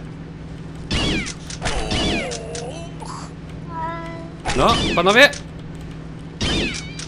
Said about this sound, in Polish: Biedne kotki, ale w tej grze to jest śmieszne.